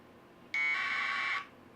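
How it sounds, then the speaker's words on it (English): A single short burst of APRS packet tones sent from the APRS Droid app through a handheld ham radio, a buzzy, warbling data chirp lasting about a second, faint and alone. "That's what it would sound like if you're transmitting APRS."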